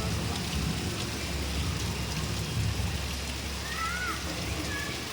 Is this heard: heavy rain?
yes